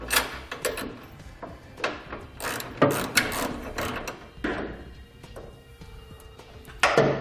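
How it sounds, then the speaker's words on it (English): Ratchet socket wrench with a 3/4 inch socket tightening 1/2 inch bolts on a B and W Companion underbed hitch kit under a 2018 Chevrolet Silverado, close mechanical clicking in irregular bursts with no talk. "We'll be using a 3/4 inch socket and wrench to tighten up the 1/2" hardware."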